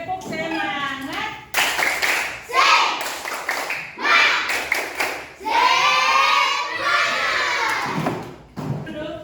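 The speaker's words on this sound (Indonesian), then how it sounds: "Tepuk semangat." Classroom group clapping chant, bursts of rhythmic hand claps mixed with children's shouted chanting, loud and close, in several surges with short pauses between them.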